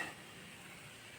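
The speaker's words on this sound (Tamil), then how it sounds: "சலசலப்பு கொஞ்சம் கொஞ்சமாக அடங்கிடுச்சு" Batter for pakoda or thenkuzhal, pressed straight into hot oil, fries with a soft, steady sizzle that is faint and even throughout, with a brief brighter crackle at the very start and no voices.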